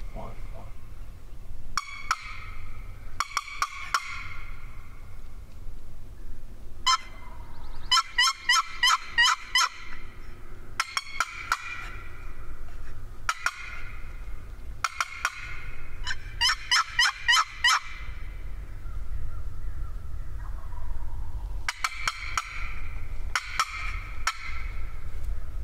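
Wild turkeys gobbling outdoors at a morning hunt, several rapid rattling gobble bursts repeating every few seconds at moderate distance, with low voices murmuring underneath.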